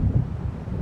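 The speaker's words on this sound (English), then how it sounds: "It seems there's a storm coming." Low, heavy rumble of thunder from an approaching storm over a lakeside night scene in the video game Alan Wake Remastered, a steady deep roll with a soft windy wash, no talk.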